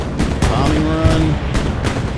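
Bombing run in the video game Hell Let Loose, loud overlapping explosions and rumbling booms with vehicle noise throughout, dense and continuous with a faint voice underneath.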